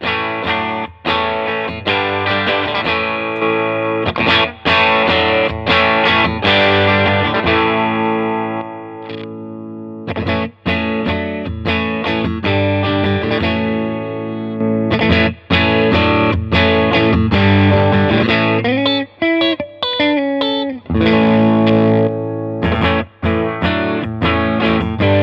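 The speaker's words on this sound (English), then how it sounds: "you can just hit that switch and boost it like so" A Sterling Valentine signature electric guitar with its 12 dB boost switched on, driven and distorted with a chorus-like shimmer, playing loud chords and riffs with brief gaps between phrases and no talking.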